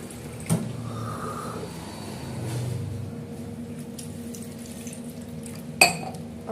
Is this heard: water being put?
yes